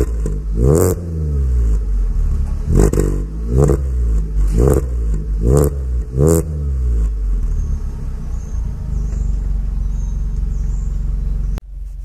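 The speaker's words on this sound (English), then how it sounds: "I'm gonna give you guys a quick start up outside" A Volkswagen Polo engine revs outside in a series of sharp, loud blips, about seven throttle bursts in quick succession over a low idle rumble, heard up close, then settling to a steady idle before a sudden click.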